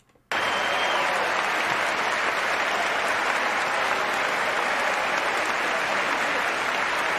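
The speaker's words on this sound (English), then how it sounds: "Notice that these people are just clapping," A chamber full of people applauding at the State of the Union, with loud, dense clapping that starts abruptly and holds steady without letting up.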